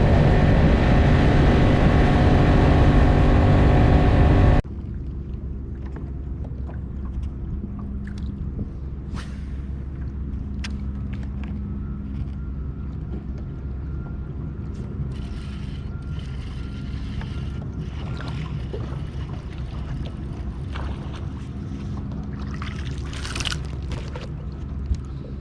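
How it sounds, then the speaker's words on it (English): An outboard motorboat engine runs steadily on the James River, a loud low drone at first that drops to a quieter, continuous hum with scattered splashes and knocks over the remaining stretch. "because honestly it's gotten pretty hot and I just want to run the boat"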